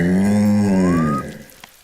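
A cartoon cow lets out a long, loud, low moo that slides upward at the end before fading, standing alone in a children's animated fantasy show.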